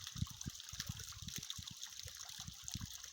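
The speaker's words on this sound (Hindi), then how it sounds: "यहाँ से इस दीवार से नीचे जाएगा, देखिएगा इस तरह से पानी गिरेगा यहाँ पर" Water spilling from a lake over a stone wall into a pool below at Naina Devi Jalkund near Pangoot, Nainital: a steady, faint rushing hiss with soft gurgling splashes throughout.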